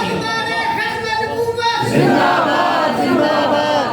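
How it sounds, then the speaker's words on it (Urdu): A crowd of voices shouts slogans in unison at a religious gathering, rising into a louder, sustained chant after a brief lull, steady and close. "اچھا نعرے لگائیے گا پلیز"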